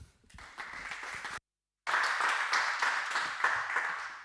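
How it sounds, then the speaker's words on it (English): A conference audience gives a presenter a round of applause at a hacker camp. The clapping starts thin, drops out briefly, then returns fuller with a steady patter of many hands. "Let's give a round of applause for Armorone."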